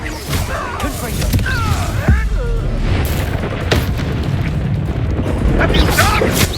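Confringo blasting spells explode in the Hogwarts Legacy video game, with deep booming bursts set among dense game effects, with a voice heard over the action.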